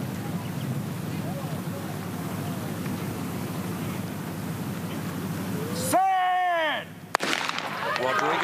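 At the 2019 Stawell Gift sprint race, a starting gun fires with one sharp crack after a long stretch of steady outdoor crowd murmur, followed by a brief ringing tone and renewed crowd noise.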